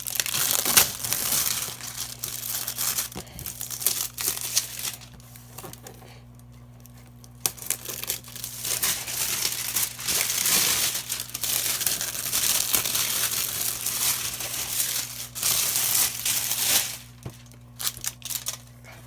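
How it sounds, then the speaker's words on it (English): Plastic wrap is torn and peeled off the box of an N scale Christmas model train, making close crinkling and crackling bursts broken by short quiet gaps. "I'll just go ahead and tear that open just like that, and we'll get the plastic off of the box."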